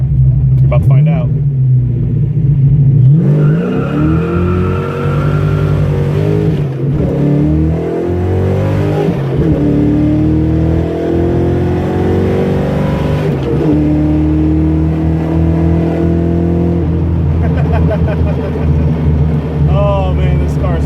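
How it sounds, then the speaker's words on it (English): A 1987 Fox car launches hard from a standstill, its engine roaring loud and close through rising revs and several gear changes over a steady rumble, with talk under the engine noise. "So what can this car do just from a standstill?"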